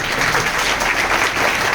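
An audience applauds at a scholarship distribution ceremony, with dense, even clapping that holds steady and close at full volume for the whole stretch, with no voices over it.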